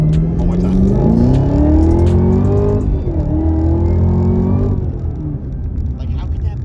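A car engine, different from a Camaro SS, revs up and down with rising and falling pitch. It is loud and close, and its strained roar sweeps upward twice.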